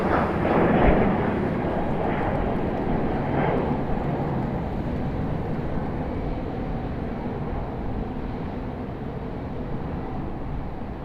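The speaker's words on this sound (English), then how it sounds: "Beautiful takeoff for the United" A United Boeing 737-700 takes off from Raleigh-Durham International Airport, its jet engines giving a loud, steady, broad roar that holds throughout and fades slightly toward the end, with no talk over it.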